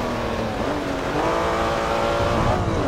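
A Ferrari engine in the racing game Forza Motorsport 3 holds a steady, loud drone, its pitch dipping and then climbing again as the car accelerates, with no talk.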